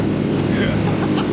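A small boat carrying several people, recently bailed of water, planes across the sea near an island in a steady, loud wash of motor and rushing water.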